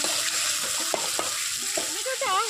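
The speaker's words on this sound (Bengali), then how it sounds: "টমেটোটা হালকা ভাজা হয়ে গেছে।" Tomato fries with salt in a pan for a vegetarian drumstick curry, producing a steady close sizzle broken by a few scraping stirs, with a brief voice near the end.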